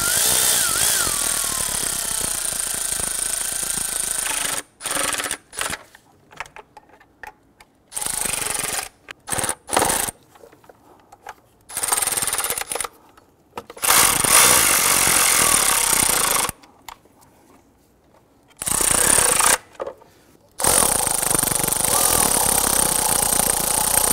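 Bolts being snugged down on the upper intake of a 2005-2021 Nissan Frontier 4.0L V6 engine: close, intermittent bursts of ratcheting tool noise separated by short silent gaps.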